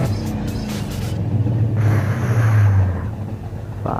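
A Nissan Silvia S14 engine drones and rises in pitch while drifting in GTA SAMP, a steady close rumble that swells and then drops away, with no talking.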